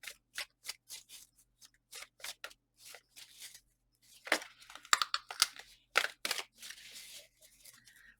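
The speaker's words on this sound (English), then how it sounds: "Sometimes a full deck can be so hard to shuffle, especially with these thicker decks." Thick tarot deck being shuffled by hand, a run of sharp papery riffles and snaps in irregular bursts, close and fairly quiet with no talking.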